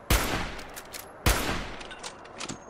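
Two loud, sharp gunshots from Fallout 4 fire about a second apart, each leaving a short reverberant tail that fades before the next.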